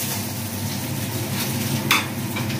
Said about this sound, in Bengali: জিরে আর তেজপাতা একটু ফোড়ন দিলাম।